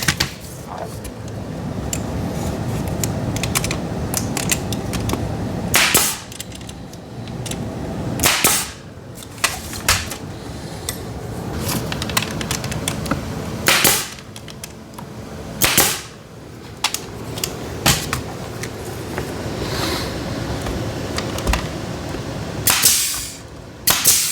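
A nail gun firing nails into wooden furniture parts, with sharp, loud snapping shots spaced unevenly among quieter handling and workshop noise.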